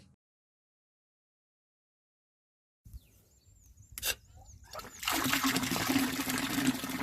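After about three seconds of silence, water starts flowing from a PE irrigation pipe in a garden watering system. It begins as a trickle and builds into a strong, steady gush that stays close and loud.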